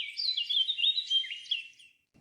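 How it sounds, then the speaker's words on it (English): An air quality monitor built into a picture frame sounds its CO2 warning as a synthetic bird chirp, a steady trilling tweet lasting about two seconds, clear and close with nothing else around it. "give me a bird noise"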